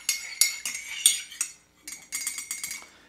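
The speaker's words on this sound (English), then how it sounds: "I'm going to do a little stir." A spoon stirs coffee in a cup, bright metallic clinks tapping in an irregular series, a few spaced strikes then a quicker cluster, close and clear with no talk.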